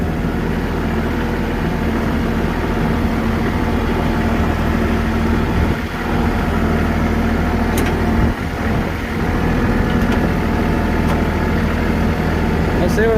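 A tractor engine idles continuously with a heavy low rumble while towing a 2002 Saturn S-series car, with scraping and shifting noises and brief dips in the drone.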